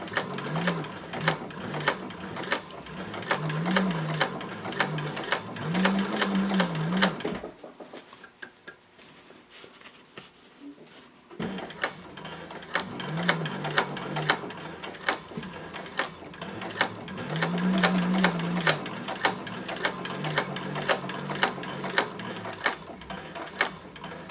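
A Techsew 4800 Pro sewing machine stitches fabric in rapid, evenly ticking bursts, close and rhythmic, stopping briefly for a pivot before resuming.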